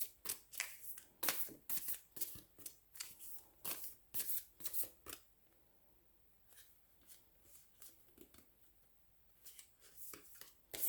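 A deck of cards is shuffled for a card reading in repeated quick riffling bursts, close and crisp, with a quiet pause in the middle before the shuffling resumes.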